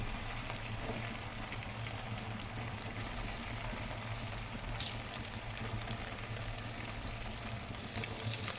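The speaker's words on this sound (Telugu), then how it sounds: "ముందుగా అది కలిపి పెట్టుకున్న ముక్కలు ఆయిల్లో వేయించుకోవాలి" Fish pieces frying in hot oil on a stove make a steady, dense crackle and sizzle. The sound is even and continuous from start to finish, close and moderately loud, with no voices over it.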